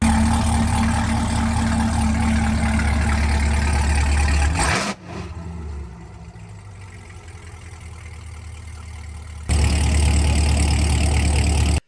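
A Chevrolet Corvette C8 fitted with a Corsa exhaust and X-pipe idles at a Corvette car show, a steady loud low rumble that dips briefly around the midpoint and then swells back.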